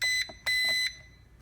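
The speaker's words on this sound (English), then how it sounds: "you'll hear a couple of beeps" Two electronic beeps from an SHRC SH2 drone transmitter binding, the second longer, shrill tones separated by a short pause and followed by quiet.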